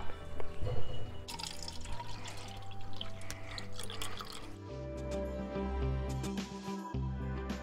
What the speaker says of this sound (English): Now you pour water in the cups.